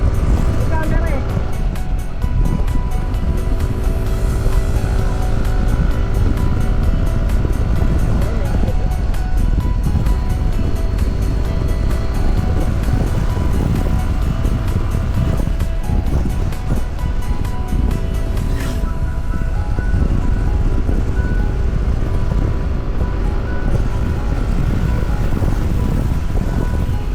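Strong wind buffets a camera on a motorcycle ride toward Kaybiang Tunnel in rainy weather, a loud continuous roar with engine drone underneath, while riders talk over it.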